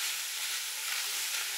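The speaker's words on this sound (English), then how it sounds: "the secret is to keep it stirring and frying, and to keep it off the bottom of the pan" Mince and onion frying in a pan while being stirred, a steady close bright sizzle with no talk.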